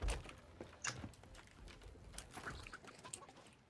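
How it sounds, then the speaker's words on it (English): Chickens cluck in the pirate video game Sea of Thieves, with several short, fairly near clucks and squawks scattered at an uneven rhythm over a low ambient background. "She's got the chickens."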